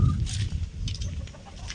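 A sick chicken clucking close by in a short burst of repeated throaty clucks, with no talk over it.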